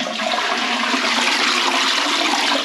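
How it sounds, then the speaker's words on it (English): A toilet flushing just after a repair, a loud, steady, close rush of water that fills the whole stretch without a break and with no voices. "let's give it a flush and hopefully it's not going to come out of here because of that ridge."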